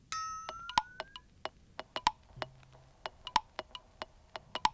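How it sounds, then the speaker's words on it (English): Percussion layered into a hip-hop beat, with sharp ticking and clinking hits in a quick, syncopated pattern and occasional bright metallic pings, soft and isolated, no voices. "Apart from that, I added some percussion"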